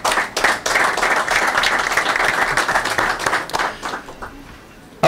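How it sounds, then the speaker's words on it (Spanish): Loud sustained applause from an audience at the installation of a congressional agriculture commission, many people clapping densely and evenly, tapering off near the end. "Le damos un fuerte aplauso."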